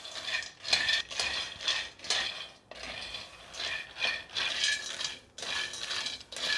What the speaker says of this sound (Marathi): मीडियम फ्लेमवरती शेंगदाणे भाजून घेणार आहे